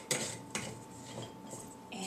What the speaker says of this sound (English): So then you're going to put a lid on.